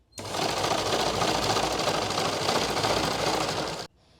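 A sewing machine stitches the hem of a salwar along an unstretched bias edge with a half-inch margin, a loud, steady, continuous whirr running almost the whole clip before stopping abruptly near the end.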